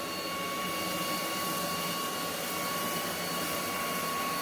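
A VacLife vacuum cleaner runs steadily at close range, a loud, constant motor whine with an airy rush and no pauses.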